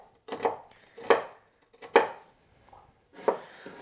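Yellow onion being chopped on a cutting board for vegan tacos: four separate knife strikes at a steady, unhurried pace, close and clear with quiet gaps between them.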